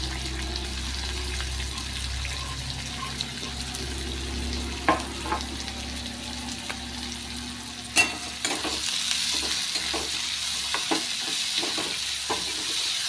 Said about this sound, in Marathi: कांदा गुलाबी रंग येईपर्यंत परतून घ्यायचा आहे